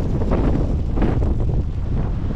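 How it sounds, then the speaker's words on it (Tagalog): Strong amihan monsoon wind blows across a beach where sand is flying, heard as loud, broadband buffeting rumble and roar against the microphone, steady with gusty swells and no voices. "malakas yung amihan at eto, nagliliparan ng buhangin"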